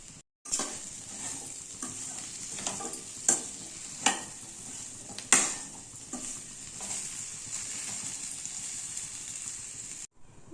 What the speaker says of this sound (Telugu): స్వీట్ పొటాటో ముక్కలు వేసుకొని కొంచెం సాల్ట్ యాడ్ చేసుకొని బాగా కలిపి మూత పెట్టుకోవాలి